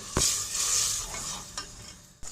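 Ground spice paste with pomegranate seed powder, salt and chilli fries in oil for stuffed tinda while a spoon stirs it. A loud continuous hiss swells and fades, and a few sharp scraping clicks of the spoon cut through, close up, with no voices.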